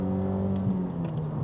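A modified 2019 Mazda 3 engine runs with a steady, deep, close-up drone and a slight rise in pitch partway through, with no talking.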